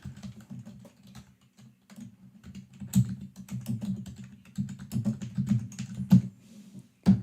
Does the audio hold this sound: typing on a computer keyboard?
yes